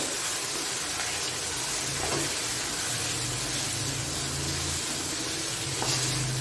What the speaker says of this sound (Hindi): अब मैं इसमें डालूंगी चिकन